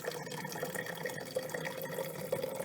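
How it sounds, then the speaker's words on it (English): Hot tap water being poured into mason jars, giving a continuous close, soft splashing and filling gurgle at low level with no talking. "now that I got my hot tap water, I'm going to pour about 2/3 full in each mason jar"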